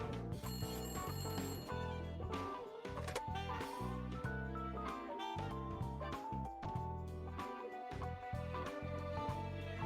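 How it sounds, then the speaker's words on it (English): A telephone rings in the Layton Brothers: Mystery Room video game, its repeated bell-like trills sitting within continuous background music. "Hey, that's the phone."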